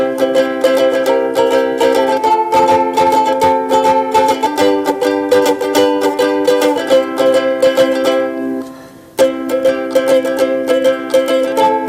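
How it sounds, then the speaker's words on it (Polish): A ukulele strums bright chords in a steady rhythm, close and clear, with a brief pause near the end before the strumming resumes. "To jest właśnie, tak brzmi ukulele."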